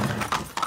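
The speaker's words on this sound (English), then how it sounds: "That's a horse and some paint." A horse painted as a zebra in the video game Far Cry 6 clops along with a few quick, close hoof steps in a brief burst.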